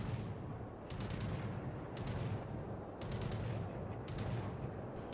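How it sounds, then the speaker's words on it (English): Anti-aircraft guns on the battleship Warspite fire in World of Warships, sharp bursts repeating about once a second over a continuous low rumble of gunfire. "My anti-aircraft guns are going off"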